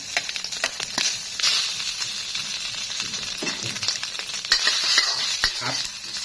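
Beef fat sizzles and crackles steadily in a hot iron wok, rendering out oil, with frequent scraping and clinking of a spatula stirring against metal, close and busy.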